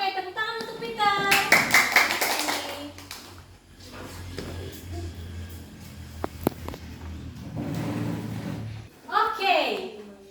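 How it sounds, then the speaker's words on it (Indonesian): Young pupils in a primary school classroom clap their hands together in a burst of applause, mixed with children's voices and the teacher talking nearby. "Oke, tepuk tangan untuk Peter."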